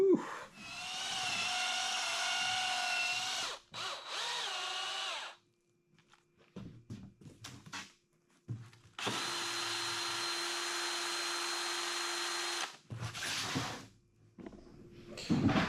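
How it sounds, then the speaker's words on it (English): A power drill whirs in several bursts while mixing wall compound inside a shed being converted to a house, its high motor whine starting and stopping with quiet gaps and handling noises between runs. "By mixing it up like that with the drill"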